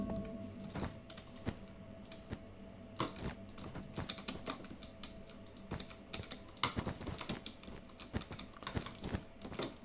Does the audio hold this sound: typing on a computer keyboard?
yes